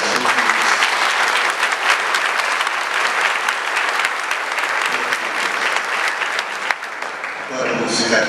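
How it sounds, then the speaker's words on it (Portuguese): A church congregation at an Easter Vigil Mass at Nossa Senhora do Rosário parish breaks into sustained, dense applause to welcome visiting guests, the clapping continuous for several seconds before a brief voice at the end. "queremos receber vocês uma salva de palmas"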